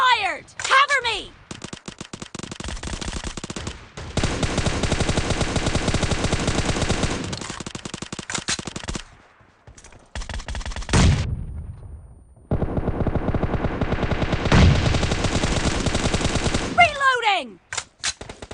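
Repeated gunfire in PUBG Mobile, sustained loud bursts of shots with brief gaps, one sharp lull midway, then another long volley ending in a few trailing shots; game voices call out faintly.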